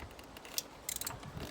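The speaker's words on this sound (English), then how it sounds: "putting the ratchet on there and then breaking it loose" A faint ratchet clicks as it loosens an exhaust manifold nut on a Mini Cooper S R56, with a few quick mechanical clicks and a short cluster of ratcheting near the end. No one speaks.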